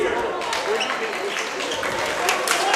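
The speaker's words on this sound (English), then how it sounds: "You hear the crowd here. cheering for Lauren." Spectators at an indoor dodgeball tournament cheer and shout in a continuous crowd roar, with scattered calls and a commentator talking over it.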